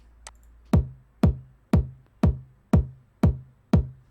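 A Roland 909-style kick drum run through Devastor distortion hits seven times at an even, steady pulse, each thump loud, close and punchy with a short gritty decay, alone without talk.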